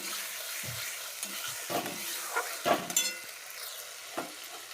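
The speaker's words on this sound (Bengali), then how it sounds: "পনিরটা দিয়ে ভালো করে নেড়ে চেড়ে গরম মশলা দিয়ে নামিয়ে নেব" Paneer stirred and fried with garam masala and black pepper in a pan, soft sizzling beneath intermittent scraping stir strokes, no voices.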